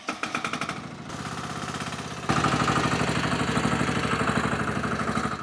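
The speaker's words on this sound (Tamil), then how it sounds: "എക്സ്കവേറ്ററിന്റെ ജോലികൾക്ക് ഉതകുന്ന തരത്തിലുള്ള 14 HP എയർ കൂൾഡ് ഡീസൽ എഞ്ചിനാണ് ഇതിൽ ഘടിപ്പിച്ചിരിക്കുന്നത്" A 14 HP air-cooled diesel engine on a mini excavator clatters in a rapid steady knock, growing louder in steps as it runs up and holds a rough, even idle close by.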